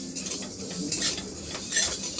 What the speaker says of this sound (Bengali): সব একসঙ্গে আমি ভাজবো।